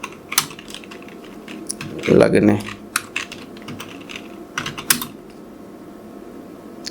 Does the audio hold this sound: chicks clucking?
no